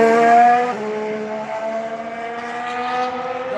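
A Honda-powered Red Bull Formula 1 car accelerates through Turn 1, its steady, deep, harmonic engine note rising and holding as it passes at moderate distance, with no talk over it.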